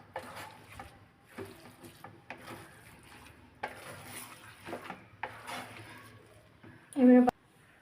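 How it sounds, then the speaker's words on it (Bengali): Chicken being stirred in a cooking pot for chicken khichuri, with soft scraping and clinking of a spoon against metal in short bursts, under a low background hum, ending in a brief louder clatter. "অল্প করে আমি নেড়ে নেব।"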